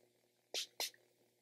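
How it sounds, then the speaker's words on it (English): Two quick hissing bursts from a facial mist spray bottle dispensing an argan oil mist, close and distinct, about a quarter second apart over a quiet background. "give a couple of sprays and focus exactly where I have the highlight."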